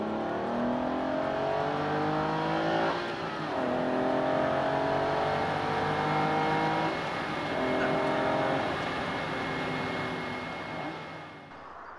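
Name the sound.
Aston Martin race car driving a lap of Le Mans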